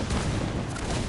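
Cannon fire striking a sailing ship during a naval battle in Assassin's Creed Black Flag, a dense loud booming rumble filling the brief moment without a break.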